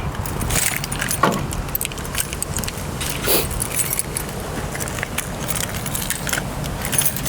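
A set of car keys jangles and clinks repeatedly up close, in loud metallic bursts, near a Lincoln Navigator. A low vehicle hum runs underneath and no one speaks.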